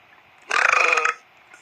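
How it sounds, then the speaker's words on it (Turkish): A single loud, close burp lasting about half a second, a rough rattling belch that stands alone against near silence. "Live kusura bakmayın geğirmem lazım acil."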